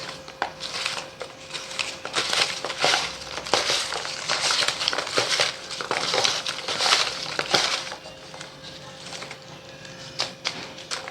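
Tarot cards are drawn and handled in a steady stream of close, crisp rustling, slapping and shuffling sounds, with short pauses between flurries.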